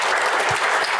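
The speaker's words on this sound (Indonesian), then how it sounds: "Tak lupa tepuk tangan sekali lagi untuk keluarga besar Kejaksaan Agung." Audience applause for the Attorney General's office family, a short, steady burst of many hands clapping in a hall.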